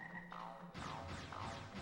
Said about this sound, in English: I just hate the frogs.